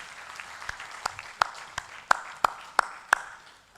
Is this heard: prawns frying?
no